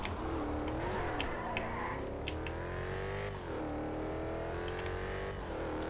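A car engine in GTA 5 revs and drones steadily as the vehicle speeds, its pitch rising and falling through gear changes, with faint ticking clicks over the top.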